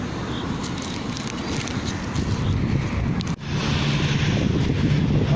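Steady, loud wind buffeting an outdoor microphone, with a continuous rumbling roar and a brief dip partway through.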